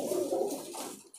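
Pigeon held in a hand gives soft, low cooing, a short close murmur that fades toward the end.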